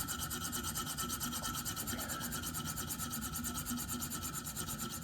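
A sharpening stone on a KME sharpener rubs rapidly back and forth along a Spyderco PM2 S35VN knife blade, making fast continuous raspy strokes that sound close and steady, with no talking.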